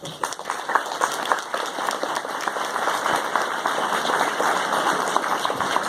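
A room of people at a local all-candidates debate claps steadily for several seconds, a dense, moderately distant patter of applause without pause.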